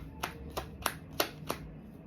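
Tarot cards being shuffled, five crisp slapping riffles spaced evenly over two seconds, close and fairly faint against a quiet low background, with no talking.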